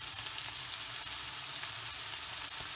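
Ginger and crushed garlic sizzle in hot oil in a pan for pepper chicken fry, a steady close hissing crackle with no talk.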